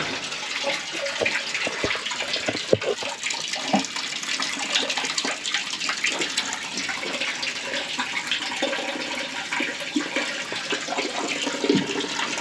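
Water runs continuously in a toilet cistern in the bush at Tembe Elephant Park, a steady hiss and trickle with occasional small splashes and clicks, close by and with no talking.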